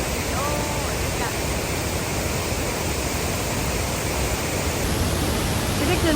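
Steady, roaring rush of the Mae Klang waterfall in Chiang Mai, a dense unbroken wash of falling water with faint voices in the background.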